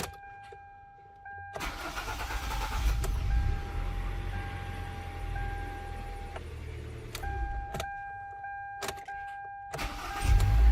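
A 2011 Hyundai Elantra engine cranks and catches after a fuel pump replacement, idling briefly before shutting off, then cranks again with a few sharp clicks; the engine is heard alone.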